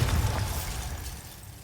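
The Bombarda blasting spell exploding in Hogwarts Legacy, a short booming burst with a deep low thump that quickly fades.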